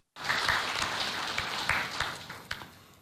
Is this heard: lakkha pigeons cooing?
no